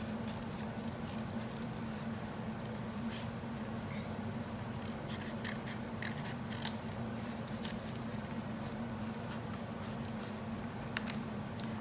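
Scissors cut a paper pattern along a drawn zigzag or wavy line, giving quiet, repeated snipping and crisp paper rustles over a steady low background hum, with no voices.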